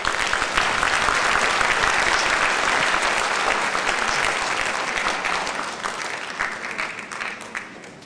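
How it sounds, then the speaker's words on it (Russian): Sustained applause from a large audience, loud and dense clapping that holds steady before gradually thinning and fading toward the end. "Наши аплодисменты"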